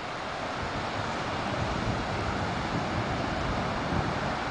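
Ocean surf and wind by the shore, a steady dense roar of breaking water blended with gusty wind buffeting the microphone, continuous and fairly loud with no pauses.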